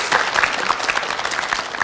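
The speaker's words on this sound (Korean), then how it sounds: "박수 부탁드리겠습니다." Studio lecture audience applauding a good answer, a steady burst of many hands clapping together, close and fairly loud, with no talk over it.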